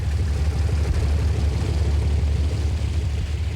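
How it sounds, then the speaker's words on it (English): Curtiss NC flying boat engines open their throttles for takeoff from Jamaica Bay, a loud, steady, low droning roar of propeller engines with no break. "After taxiing into Jamaica Bay, the pilots opened the throttles."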